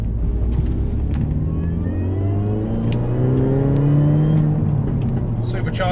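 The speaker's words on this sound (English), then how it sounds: "Supercharger whines nicely." A 14-year-old MINI Cooper S R53 JCW GP1 driving with its supercharger whining as the engine climbs through rising revs, steady and close, with a voice talking over it.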